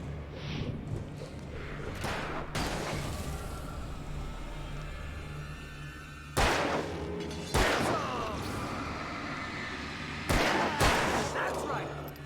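Enemy gunfire in Alan Wake, a few sharp loud gunshots spaced several seconds apart, a couple in quick pairs, over a low rumbling background.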